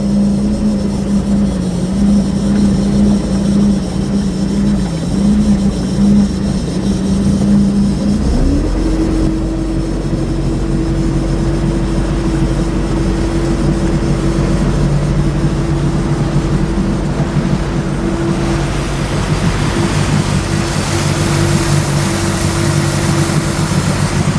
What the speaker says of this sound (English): the engine noise is kind of, I mean, it's you know, it's not dead quiet like some of the other more expensive boats